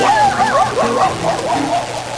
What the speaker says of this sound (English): The dog was after him.